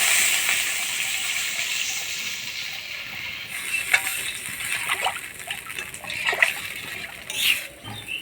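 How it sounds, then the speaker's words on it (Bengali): Water is poured into a pan of spice paste frying for a Bengali fish curry, giving a steady hiss and sizzle with brief splashing bursts midway and toward the end. "এবার জল দিয়ে দেব।"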